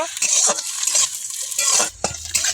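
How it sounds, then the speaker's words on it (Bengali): Drumsticks frying in hot oil in a wok, with loud bright sizzling and repeated scraping, clinking stirs of a metal spatula against the pan, fairly close. "এটা আমি কিছুক্ষণ নেড়ে চেড়ে ভেজে নেব।"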